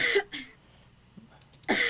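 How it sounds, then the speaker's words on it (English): Two short, harsh dry coughs near the start and another at the end, unprocessed, separated by near silence with a faint click in between. "So I have a cough. This is the dry signal."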